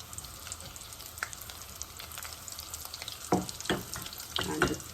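Falafel frying in hot oil, a steady bubbling sizzle with sharper crackles and spatters as the balls are turned, close and fairly quiet, no talk.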